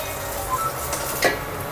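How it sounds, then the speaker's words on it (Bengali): Onions frying in a pan for khichuri, a continuous close sizzle with a couple of brief utensil clinks against the pan. "পেঁয়াজ প্রায় ভাজা শেষ"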